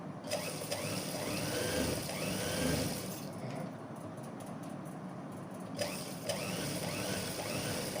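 A sewing machine stitches two pieces of fabric together while a sherwani collar is being made, a busy close mechanical chatter that runs continuously, thinning briefly in the middle before picking up again.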